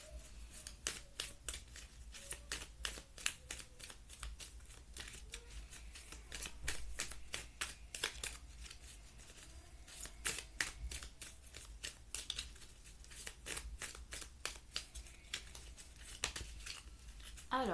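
Tarot cards are shuffled in rapid, crisp riffling bursts that repeat steadily and close up, with quiet pauses between handfuls.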